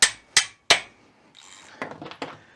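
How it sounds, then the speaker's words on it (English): Three sharp metallic hammer strikes on a ratchet come quickly one after another while work goes on on a seized VW Beetle engine, followed by quieter clinks and tool rattles. "I know, don't hammer on the ratchets."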